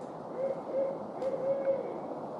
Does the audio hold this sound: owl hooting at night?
yes